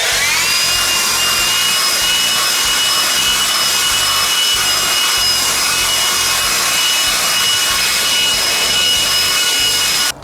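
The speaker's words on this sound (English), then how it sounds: "My preferred method is to use a blower." Leaf blower clearing leaves during a spring yard cleanup, a loud steady whooshing roar with a high whine that runs unbroken and close for the whole stretch.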